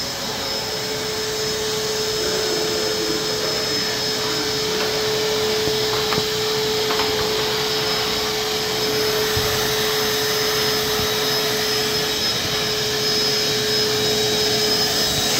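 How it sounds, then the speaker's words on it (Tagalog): A household vacuum cleaner runs continuously inside a home, a loud steady whine with a constant pitched tone over a rough motor rumble, never pausing and with no voices over it. "So, nag-vacuum na si Naknak."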